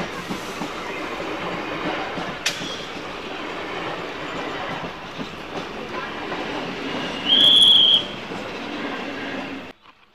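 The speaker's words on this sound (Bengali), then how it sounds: "রানাঘাট থেকে পাঁচবিহার ট্রেন ঢুকে গেল" A passenger train from Ranaghat rolls past a closed level crossing gate at Pachberia, a steady close rumble of wheels and carriages with a brief high squeal partway through before the sound fades.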